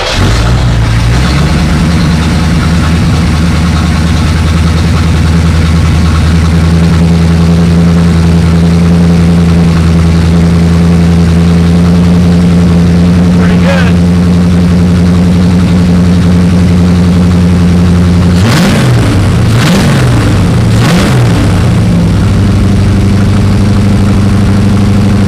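A Corvette with fuel delivery problems cranks, catches and runs, its engine idling loud and close at a steady rumble with a few sharp revs near the end.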